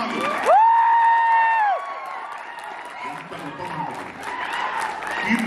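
An audience at the Court movie success meet bursts into loud applause and cheering after a sustained, whistle-like tone opens the moment, with crowd noise swelling again toward the close.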